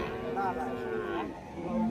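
A cow moos at a busy cattle market in Rajshahi, two drawn-out lowing calls over a murmur of crowd noise and people talking.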